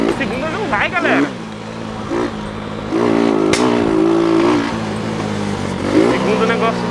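A motorcycle engine revs up and down as the rider attempts a wheelie in second gear, a loud, rising and falling drone heard close, with a voice talking over it.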